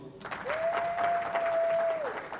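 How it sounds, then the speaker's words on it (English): A convention audience at a real estate investing talk gives a round of applause, a faint, distant wash of clapping under a steady whistling tone. "Round of applause, please."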